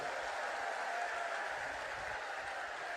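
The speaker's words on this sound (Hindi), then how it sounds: "जरा जोर से ताली बजाओ।" Crowd clapping at an outdoor election rally in Ranaghat, a faint, distant wash of steady applause with no talk over it.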